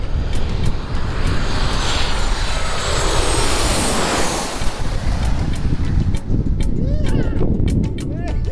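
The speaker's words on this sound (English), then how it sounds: "It's a takeoff right now." A fixed-wing airplane taking off at Skiathos Airport in Greece, its loud jet engine roar filling the whole stretch, mixed with strong wind and crashing surf nearby, with a few voices faintly audible.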